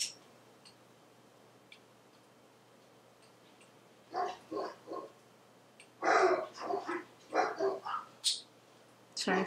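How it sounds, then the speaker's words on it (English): Several dog barks come in two bursts, a short cluster then a longer run of sharp yaps, fairly close, after a quiet stretch with faint ticking. "Sorry for my dogs."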